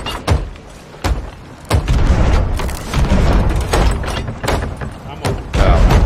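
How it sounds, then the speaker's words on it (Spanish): Cannons fire in the pirate video game Sea of Thieves as a string of loud, deep booms and heavy thuds spread through the clip. They sound over constant dense noise from the ship and the sea. "Cañonazo, nos da."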